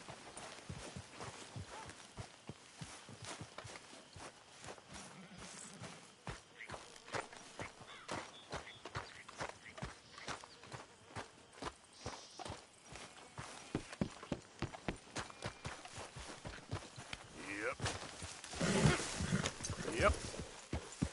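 A horse's hooves clip-clop steadily in a video game, a long run of close, rhythmic hoofbeats that quicken and grow louder toward the end, with voices talking over them now and then.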